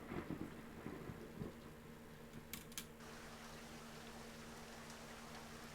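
Rain and a low thunder rumble in the Doki Doki Literature Club Purist Mod game, faint steady rain hiss with a low rolling drone and a couple of brief crackles.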